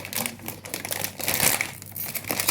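Plastic packet of Korean instant noodles crinkles and crackles as it is torn open, a steady close rustle with sharper crackling bursts and no talking.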